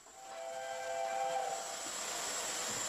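British steam locomotive 6007, being prepared at Bury on the East Lancashire Railway, gives off a soft, steady hiss of steam with a faint whistling tone, heard quietly and without any speech.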